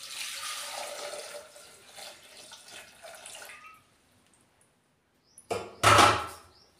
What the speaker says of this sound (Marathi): यात पाणी टाकूया.